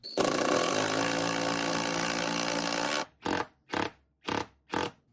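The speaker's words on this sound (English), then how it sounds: "Next, I will be drilling in the lag bolt." A loud power drill runs continuously for three seconds, then fires in four short, evenly spaced bursts as a lag bolt is driven home.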